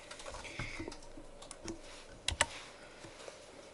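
Soft, scattered keyboard taps in a quiet room, with a couple of sharper clicks partway through.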